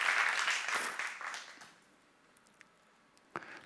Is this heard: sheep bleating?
no